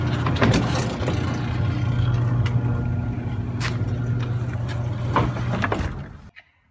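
A backyard roll-off observatory roof made from a Rubbermaid shed rolls open on metal wheels with a steady, loud rumbling drone and a few sharp knocks. It stops abruptly at the end.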